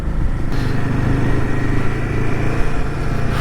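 A 390 motorcycle rides a mountain road in North Sikkim toward Yumthang Valley, its engine giving a loud, steady close drone throughout with no talking.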